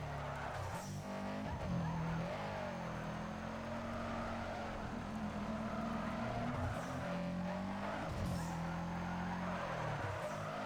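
All-wheel-drive car drifting in NFS Underground 2: a steady, loud engine drone with shifting pitch sweeps and tyre squeal running throughout, no talking over it.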